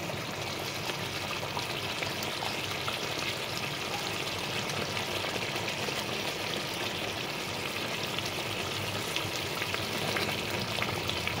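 Eggplant pieces fry in a pan of oil for a Bengali begun bahar dish, giving a steady, moderately quiet sizzle that holds evenly throughout with no talking.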